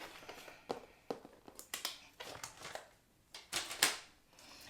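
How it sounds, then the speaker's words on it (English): A paper trimmer slices through card along a pencilled line, giving a series of short, crisp scraping clicks and swishes spread over a few seconds, with a louder final pass near the end, close by and without talk. "Let's bring in our trimmer, and I'm going to just line that up and cut it right where I've already drawn a line."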